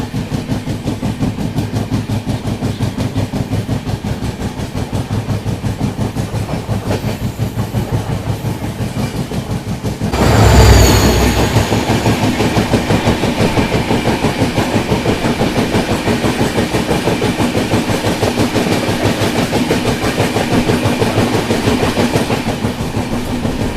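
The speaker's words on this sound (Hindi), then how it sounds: "कोई पैसेंजर ट्रेन अभी बगल से क्रॉस हुई आईसीएफ कोचेस के साथ।" A passenger train with ICF coaches rolls loudly alongside, a steady rhythmic clatter of wheels on rail joints that swells briefly midway as the other train crosses, then continues steadily.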